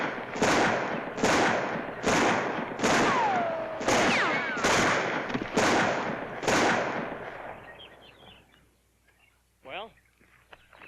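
A rapid series of about eight loud, evenly spaced gunshots in a Western shooting display, each with a sharp crack and ringing tail, followed by a quieter stretch and one faint later sound.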